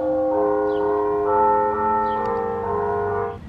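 St. Philip's Church bells ring in Southport, North Carolina, with steady overlapping metallic tones that hold and shimmer continuously at moderate loudness, heard alone.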